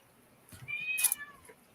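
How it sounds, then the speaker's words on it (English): A cat gives a single clear, drawn-out meow at close range in a quiet room, rising and then falling away over about a second. "I don't know what she's meowing about, but She's a cat."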